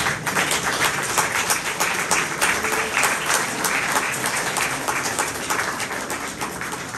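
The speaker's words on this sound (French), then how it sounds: "Je vous demanderai de l'applaudir du fond du cœur" Heartfelt applause from an audience of young participants, steady many-handed clapping with distinct individual claps standing out, sustained at an even level for several seconds.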